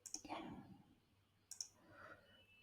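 Two crisp computer mouse clicks, one at the start and another about a second and a half later, sound close and sharp while someone speaks quietly between them.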